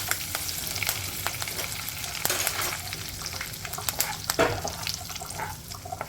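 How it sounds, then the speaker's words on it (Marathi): Oil crackles and sizzles steadily as asafoetida and curry leaves hit the hot pan, with occasional sharper pops and some clinking of a utensil. "खूप सारा हिंग मी यामध्ये टाकते आहे कढीपत्ता टाकते आहे"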